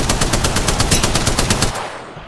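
Rapid machine gun fire in a video game, a loud, steady burst of repeated shots that runs for about two seconds and then cuts off, with no talking.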